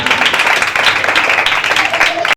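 Applause from a Bible college audience welcoming a woman preacher to the stage, a dense steady wash of clapping that runs loud and continuous before cutting off abruptly at the end.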